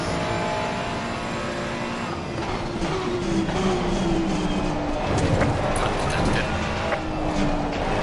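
Race car engines drone and shift pitch as cars circle the Paul Ricard circuit in the SimGrid racing game, a continuous loud whine with rising and falling tones, with speech over it.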